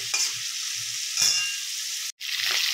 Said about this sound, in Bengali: সর্ষের তেল গরম করে আমি তার মধ্যে আলুগুলো লাল লাল করে ভেজে তুলে নিচ্ছি